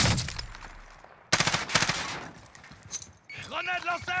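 RAM-7 assault rifle in Call of Duty Warzone fires rapid automatic bursts, loud and close, followed by further shots and game sounds with a voice speaking in the background.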